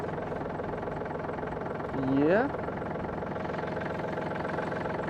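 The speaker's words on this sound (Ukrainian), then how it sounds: "Трактор завівся з пів оберту." A Yanmar F230 tractor engine idles steadily with a low, rumbling drone, and a brief rising whine briefly cuts through midway. A short word is spoken.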